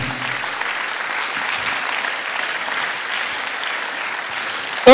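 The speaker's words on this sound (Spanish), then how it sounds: "Denle aplauso al Señor, amén." Continuous applause from a church congregation praising the Lord during a sermon, even and sustained for the whole stretch, ending with a short loud knock.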